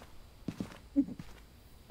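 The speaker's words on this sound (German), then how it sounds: "Ich höre Schritte." Ghost footsteps in the Phasmophobia horror game, a handful of soft, uneven thuds spread across the moment, faint and muffled, with no talking over them.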